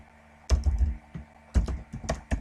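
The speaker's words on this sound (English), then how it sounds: "here you can start typing something like this" Close, crisp typing on a computer keyboard: a quick cluster of keystrokes, a brief pause, then two more rapid flurries of clacking keys.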